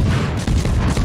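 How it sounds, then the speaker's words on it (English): Rapid naval gunfire from the US destroyer Farragut in World of Warships, a dense continuous volley of booming shots with no gaps, loud and close. "Here's a small demonstration of how fast the guns on the Farragut can fire and reload."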